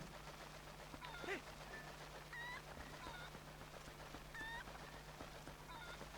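Zelda: Twilight Princess HD game chicken gives several short clucking squawks at intervals over a quiet, humming background, with no voices over it.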